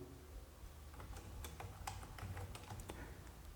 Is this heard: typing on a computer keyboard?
yes